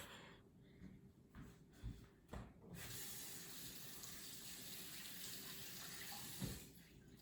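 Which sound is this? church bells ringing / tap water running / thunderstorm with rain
tap water running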